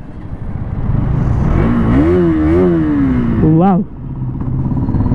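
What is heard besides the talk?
KTM Duke 200 motorcycle accelerating on a ride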